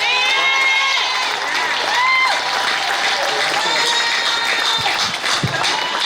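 An audience at a People's National Movement Red Brigade event in Marabella, Trinidad, claps and cheers for a girl after her first public performance, a steady loud wash of applause with voices and shouts mixed in.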